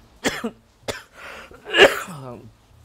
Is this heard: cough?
yes